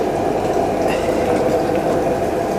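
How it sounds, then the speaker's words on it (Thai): Water at a rolling boil in a pot for blanching spinach, a steady dense bubbling hiss that runs evenly through the whole stretch with no pauses and no voice over it. "แล้วลวกผักขมก่อน"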